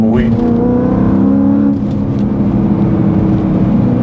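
A BMW M3 V8 revs close and loud, rising briefly then settling into a deep burbling idle, with a voice heard under the engine.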